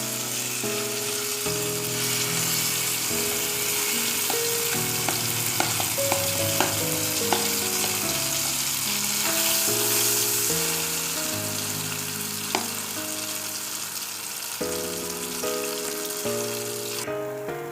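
Cooked green gram fries in ghee while being stirred for payasam, a continuous close sizzle with scraping stirs running beneath steady background music.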